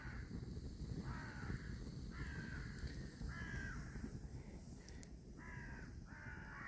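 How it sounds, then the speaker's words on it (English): Crows flying in to roost in trees at dusk give repeated harsh caws in a steady series of calls, a little distant, over a constant low rumble of outdoor background noise. "I can hear loads of like crows. They're going to roost in the trees over there."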